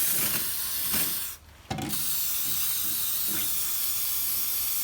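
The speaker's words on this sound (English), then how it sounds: "so I'll just quickly get this stuff coated in the degreaser" A spray bottle of degreaser hisses in a steady close stream onto the underside of a Motostandard 1010 motorcycle, running almost continuously with a brief pause partway through.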